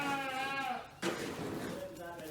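Rams from a village flock bleat close by, a long wavering call followed by another after a short pause, with people talking over them.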